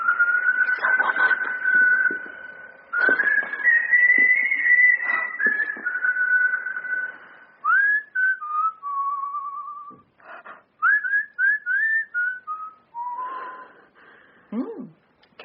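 A person whistles a lilting melody up close, with long held notes followed by quick short phrases and brief pauses between them.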